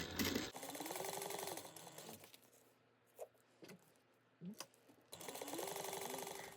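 A sewing machine stitches D-ring tabs for a bag in two quick, even bursts of whirring needle chatter, with soft handling clicks and rustles during the quiet pause between them.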